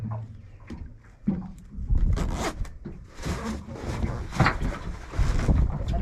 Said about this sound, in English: Really good quality zipper in that too.